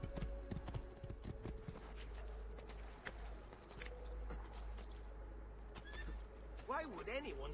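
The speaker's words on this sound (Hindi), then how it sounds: "चल मेरे घोड़े, टुकड़ुक टुकड़ुक टुकड़ुक टुकड़ुक" A horse in the video game Assassin's Creed II trots and gallops with rhythmic hoof clops, then gives a brief neigh near the end, with some quiet game voices underneath.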